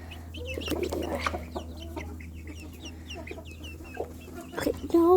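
Gray hens cluck and murmur close by in a backyard coop, with soft repeated calls and chirps over a low steady hum and a louder rustle at the end.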